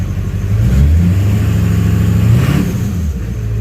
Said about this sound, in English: So see, revving it doesn't do too much